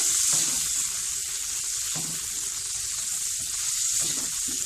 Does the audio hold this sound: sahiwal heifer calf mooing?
no